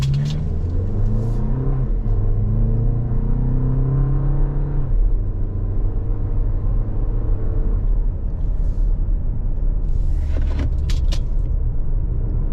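A 2024 Toyota Grand Highlander XLE AWD SUV pulls away after an emergency stop, its engine rising through several gear changes under loud road and wind rumble, with a few light clicks late on.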